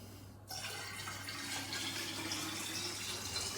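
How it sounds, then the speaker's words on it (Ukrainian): Alcohol is poured into water in a jar while making a forest-fruit liqueur; a steady splashing liquid stream starts abruptly and continues evenly, moderately close, with no talk. "спирт додаємо у воду"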